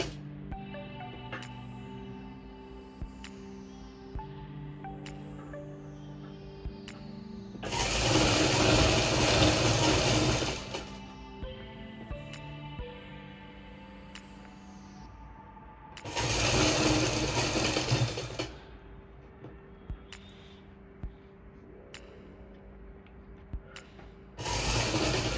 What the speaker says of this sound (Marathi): आणि इथे आपण पूर्ण टिप मारून घेणार आहोत